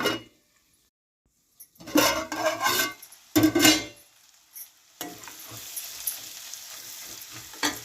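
Dried anchovy-style fish (endu nethallu) cooking in oil in a pan for a curry sizzles in bursts, with stirring scrapes and short frying crackles separated by quiet gaps, then a steadier, softer sizzle near the end.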